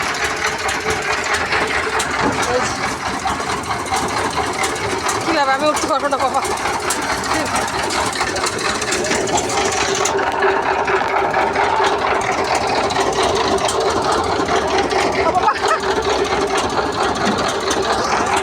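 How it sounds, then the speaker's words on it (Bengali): Trawler boat engine chugging steadily and close for the whole stretch as the boat comes in, a constant mechanical drone under people talking. "এই তো ট্রলার চলে আসছে"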